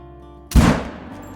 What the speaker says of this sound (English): That should be a good shot.